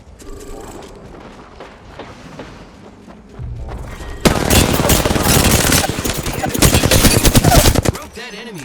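Gunfire in the video game Apex Legends: rapid machine-gun bursts and heavy booming shots pile up loudly, after quieter combat sounds and game voice lines at the start.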